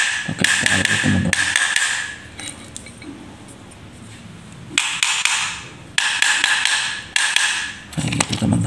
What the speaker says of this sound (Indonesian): Pakai palu teman-teman.